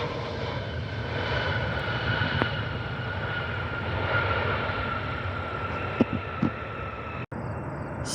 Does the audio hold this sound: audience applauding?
no